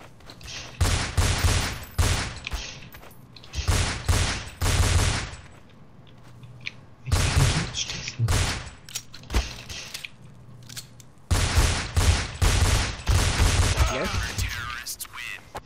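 Bursts of automatic gunfire from Counter-Strike Source sound in several rapid volleys separated by short pauses, loud and crackling, with a player's voice occasionally talking between them.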